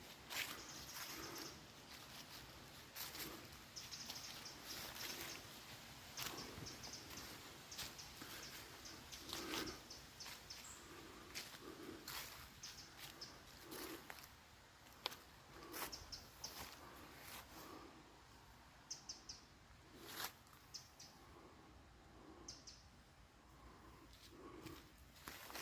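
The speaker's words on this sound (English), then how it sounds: "Hear the birds calling out there." Birds call faintly and intermittently in a wood at night near a country church, their soft cries scattered over quiet background hiss with occasional footsteps.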